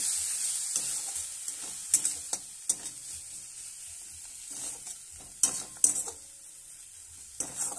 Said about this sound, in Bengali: এবার একটু অল্প জল দিয়ে আরো ভালো করে কষিয়ে নিচ্ছি